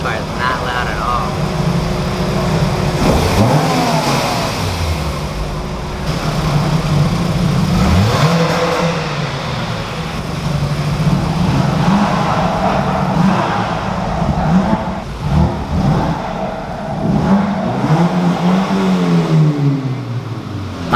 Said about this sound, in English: About to pull up on the revving tunnel.